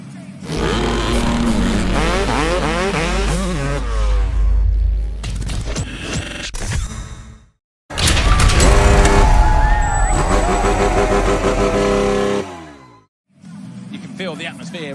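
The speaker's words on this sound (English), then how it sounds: "Riders fire up their engines as we prepare for SX1 race 2, the sprint race." Supercross motorcycles at the Paris stadium revving their engines before the SX1 sprint race start, a loud dense roar of many engines with sharp blips, briefly cut out and then resuming.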